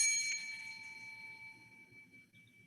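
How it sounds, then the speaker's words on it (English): A single bright bell strike rings out at the start, then a clear tone hangs and slowly fades over a faint low rumble. "I'm ringing this bell."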